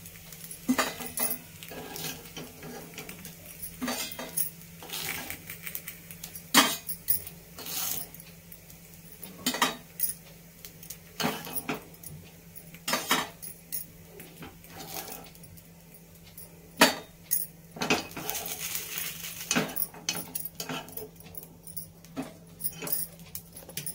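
Cooked rava appe lifted one by one out of a metal appe pan, giving scattered light metallic clicks and scrapes at an irregular pace, fairly close and quiet, with no talking.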